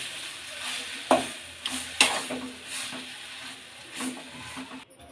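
Boiled, mashed potato being stirred into a mixture in a pan, with soft scraping and light sizzling and a few sharper knocks of the spoon against the pan at irregular intervals, close and fairly quiet.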